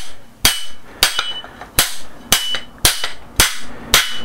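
Seven sharp metallic taps at a steady pace as a headset race is tapped onto an alloy bicycle fork steerer, each with a short ringing tail, close and distinct with quiet gaps between.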